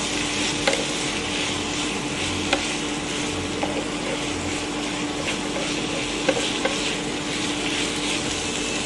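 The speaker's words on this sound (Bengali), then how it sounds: "এটাকে ভালো করে নাড়িয়ে নেব।" Snake gourd and grated coconut fry in a pan while being stirred, with a continuous sizzling hiss and scattered clicks and scrapes of the spatula against the pan.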